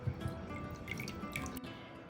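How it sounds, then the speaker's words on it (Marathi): Water drips and trickles from soaked grated sweet potato as it is squeezed by hand, a soft close patter of drops in a quiet kitchen. "हे जे रताळ आपण पाण्यात ठेवलेलं होतं घालून ते आपण पाणी थोडंसं दाबून घेणार आहोत"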